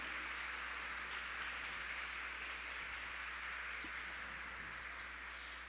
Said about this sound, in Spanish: Fuerte el aplauso para todos los que nos están escuchando.